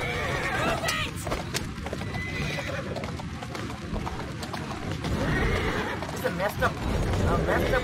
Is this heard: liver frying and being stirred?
no